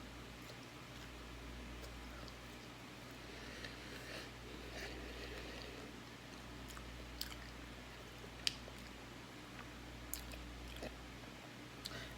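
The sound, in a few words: chewing fried chicken during a mukbang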